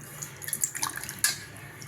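Water is poured into a bowl of spice batter of turmeric, fennel powder, cornflour and salt for paneer 65, a short close splashing trickle with a few light drips.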